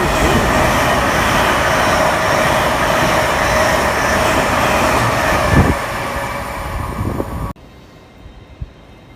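A non-stop train roars loudly through Grantham station at speed, a broad rushing rumble that holds steady, then cuts off abruptly, leaving a quiet hum with a single knock.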